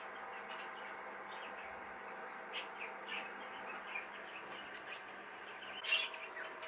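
Soft, high chirps and tweets from small caged birds scattered over a steady background hum, with one brighter call near the end.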